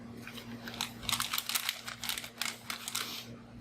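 Cardboard and plastic packaging of an HPE iLO enablement kit for a ProLiant MicroServer Gen10 Plus being opened, with close, irregular crinkling and crunching bursts over a steady low electrical hum.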